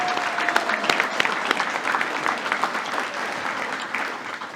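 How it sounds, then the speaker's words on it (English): A banquet crowd at a high school Hall of Fame induction applauds the student council members serving as waiters, a moderate, steady clapping with a few sharper individual claps standing out. "I think they deserve a huge round of applause."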